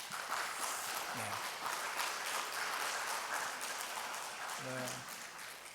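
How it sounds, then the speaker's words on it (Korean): Church congregation clapping in encouragement, a steady wash of applause at low level, with someone speaking briefly over it twice. "우리 격려 박수 한번 하십시다"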